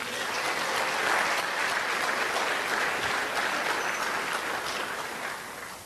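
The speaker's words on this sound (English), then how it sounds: "Let's get a round of applause for that piece, please." Dense applause from an audience at a Pecha Kucha night fills the clip, holding steady before it begins to taper off at the end.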